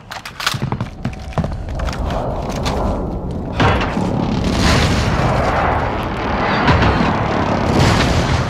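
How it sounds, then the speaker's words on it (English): Precision airstrike explosions in the shooter game Call of Duty: Modern Warfare: a series of heavy booms and thuds, one sharp hit early, then rolling, rumbling blasts that stay loud and continuous to the end. "Enemy precision airstrike."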